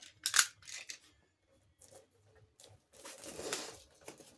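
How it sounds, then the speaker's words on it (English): Cellophane shrink wrap is peeled and torn off a special edition Blu-ray case in sharp, crisp crackles, a quick burst at the start, then quieter rustling building to a longer crinkling tear near the end, close up. "So let's get this cellophane off."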